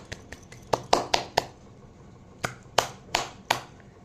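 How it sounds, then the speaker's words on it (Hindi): Sparse hand claps, about ten sharp separate claps in two loose bursts, close and moderately loud over a quiet background with no talk. "आपके लिए ना तालियां"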